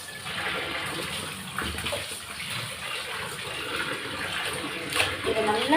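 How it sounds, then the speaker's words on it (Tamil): Raw chicken is rubbed and washed under running water while cooking a chicken gravy, giving a steady splashing gush of tap water with small scrubbing sounds throughout. "இதை நல்லா தேய்ச்சி கழுவணும்."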